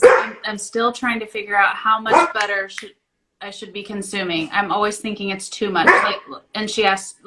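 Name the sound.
dog barking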